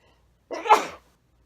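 A single loud sneeze, sharp and close, bursting out of silence and fading within half a second.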